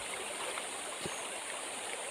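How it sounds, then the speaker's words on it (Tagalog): Water of the Panicuan River flows in a steady, broad rushing wash that stays even and close throughout, with no voices over it. "Ang lawak ng ilog dito"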